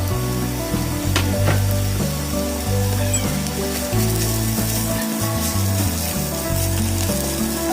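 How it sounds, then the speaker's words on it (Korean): Baby octopus sizzles and crackles in a warm pan over low heat with steady stirring and occasional clinks of a utensil, close and continuous, with no talking. "꼴뚜기는 약한 불에 팬이 따뜻할 때 볶아요."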